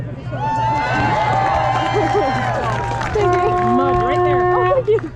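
A large outdoor crowd at a freedom rally in Calgary, Alberta, cheers and whoops loudly with rising shouts. Sustained horn-like tones join in partway through, and people's voices mix into the roar.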